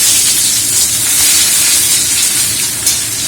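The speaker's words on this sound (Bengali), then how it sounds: "তেল গরম হয়ে গেছে, আমি পেঁয়াজটা ছেড়ে দিচ্ছি।" Onions drop into hot oil for a mustard mutton dish, setting off a loud, steady, close hiss of sizzling that fills the whole moment without pause.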